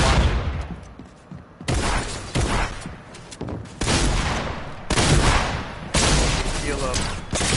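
Repeated bursts of gunfire in a Fortnite match, loud and close, coming in several heavy volleys separated by short lulls, with people talking over the shooting.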